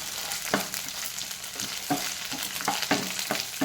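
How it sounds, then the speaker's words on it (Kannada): Four large garlic cloves frying with onions in a pan, a steady sizzle punctuated by repeated spatula scrapes and stirring knocks at an uneven rhythm, close and moderately loud. "4 ಬೆಳ್ಳುಳ್ಳಿ ಕಾಳು ದೊಡ್ಡ ಗಾತ್ರದ್ದು, ಅದನ್ನು ಹುರಿಯಿರಿ."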